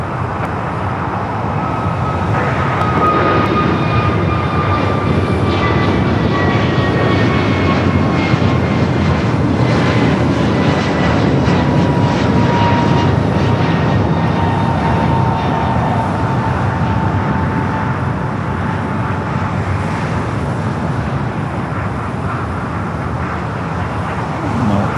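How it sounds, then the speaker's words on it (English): An American Airlines A321neo takes off at LAX bound for Philadelphia, its loud, sustained jet roar building then holding, with rising and falling engine whine tones sweeping across the runup and climb. "Next takeoff is that flight to Philadelphia. American Airlines flight 1918, A321neo."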